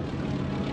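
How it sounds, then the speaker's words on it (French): Propeller aircraft flying overhead near Dien Bien Phu in 1954, a loud, steady engine drone filling the sky with no break and no voices. "Des avions."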